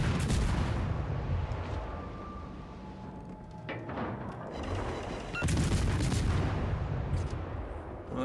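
Naval gunfire from warships in World of Warships: Legends: heavy, continuous booming salvos with rumbling low end, easing mid-clip and then surging again in loud, dense volleys.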